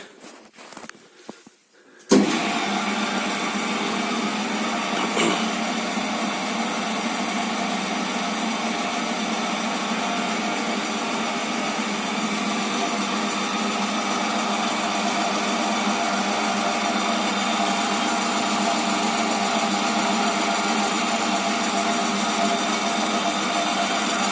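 An NS-12 drill press, modified as an NSR-12M, starts up after a few seconds of handling noise, then runs with a steady, even motor hum and whine that holds for the rest of the clip.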